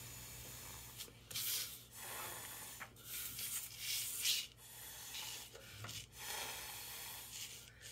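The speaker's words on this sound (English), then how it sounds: "I'm gonna blow really close to the paper" Breath blown close over wet watercolor paint on paper makes soft, breathy rushes of air, several gusts in a row starting gentle and growing stronger, near and alone.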